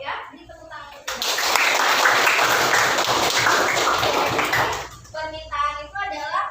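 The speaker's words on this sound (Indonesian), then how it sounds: "Jadi tepuk tangan untuk Rido" A classroom claps for a student after a correct answer: a dense burst of applause from many hands lasts about four seconds, followed by a teacher's voice and children's chatter.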